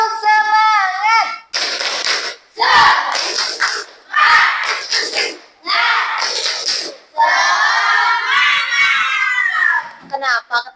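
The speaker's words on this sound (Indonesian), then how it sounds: "Coba tepuk semangat." A fifth-grade classroom of schoolchildren shouts a spirit chant in bursts, punctuated by sharp group claps between the shouted phrases, loud and close.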